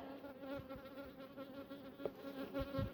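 Steady droning buzz of honeybees, close and continuous, with a few soft bumps and taps underneath.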